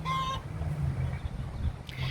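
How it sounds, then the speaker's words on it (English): A chicken clucks briefly at the start, then faint fowl murmurs continue over a low background rumble, fairly close. "Chickens."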